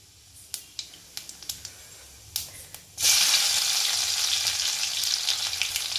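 Fennel seeds are dropped into hot oil, first with a few sharp crackling pops, then a sudden, loud, continuous frying sizzle close by.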